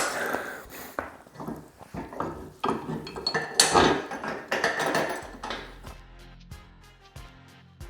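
A wrench tightens a bolt on a seated leg extension and curl attachment for a squat rack, giving a series of close metallic clinks and knocks of varying loudness that trail off toward the end.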